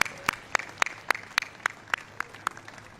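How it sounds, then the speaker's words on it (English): Outdoor applause on the White House lawn for a birthday president comes through as sharp, evenly spaced claps in a steady rhythm, close and distinct over a quiet background. "How about a round of applause for our birthday president?"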